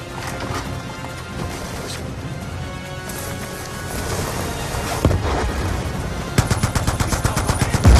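Mounted machine guns open up in a Black Ops 2 gunboat chase on water, with sustained bursts of gunfire over a dense battle backdrop and rapid, loud crackling volleys building toward the end.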